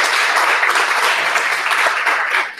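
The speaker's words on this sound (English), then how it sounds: "I'm just going to give you like a round of applause from me and the audience" An audience applauding the guest at a talk on basic income, a dense patter of many hands that stays fairly even, then thins and drops off at the very end.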